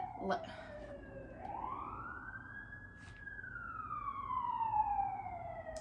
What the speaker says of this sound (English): There goes the siren.